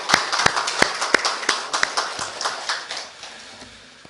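A church congregation at a Korean Sunday service, marking the first anniversary of two churches merging, claps in a loose, fairly rhythmic pattern of distinct hand strikes that gradually fade over a few seconds.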